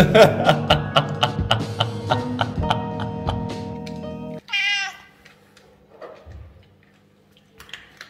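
A loud, vocal house cat lets out one clear, drawn-out meow close by, following several seconds of rhythmic ticking and clattering. A few faint sounds trail off afterward.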